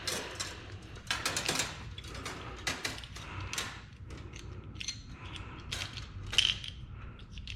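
A Mastercool hydraulic flaring tool is threaded back out, producing quiet, close metallic ratcheting clicks and creaky scraping turns in irregular bursts with no talk.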